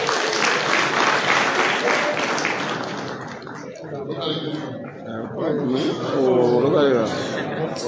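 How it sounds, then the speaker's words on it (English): Applause from an audience at a youth empowerment program event with the Liberian president rises loud at first, then fades into chatter, with voices and a brief burst of laughter. "Please clap for Prince Boto"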